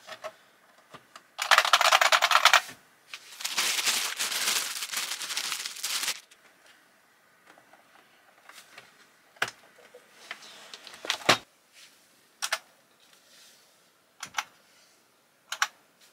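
Typing on a Unicomp Mini M keyboard: loud, dense bursts of clattering keystrokes in two long runs, then sparse single clacks and short clusters spaced apart, close and clear with no speech.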